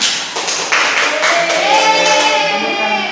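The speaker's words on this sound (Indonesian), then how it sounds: "Kasih tepuk tangan." Clapping in a third-grade classroom, a short burst of hands mixed with children's voices and some talk layered over it, fairly close and loud.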